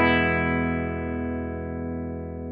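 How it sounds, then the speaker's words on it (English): An electric guitar chord played through a Hardwire TR-7 pedal switched to bypass, into a modeled American 2x12 combo, rings out once and sustains cleanly, fading slowly over a couple of seconds. "Here is the sound of the guitar with the pedal and bypass."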